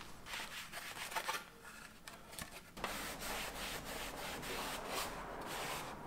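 Cloth wiping and rubbing across a car dashboard with cleaner, a steady close scrubbing and swishing that runs throughout with brief pauses and no talk.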